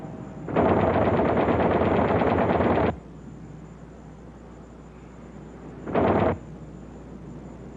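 Twin .50 caliber machine guns in the tail of a B-25 Mitchell bomber fire one long, loud sustained burst, then fall silent before a second short burst.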